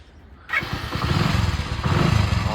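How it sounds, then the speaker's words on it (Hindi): Motorcycle engine starting, a near, loud ignition catch after a quiet moment that settles into a steady rhythmic idle with a slight rise in revs near the end. "बाइक को करेंगे ऑन"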